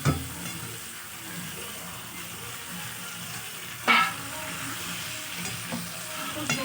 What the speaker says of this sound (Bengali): তেল ছেড়ে দিয়েছে, এবার মাংসটা দিয়ে দেব।